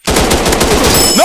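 Rapid automatic gunfire from a mobile first-person shooter game, a loud close burst of evenly spaced shots lasting about a second.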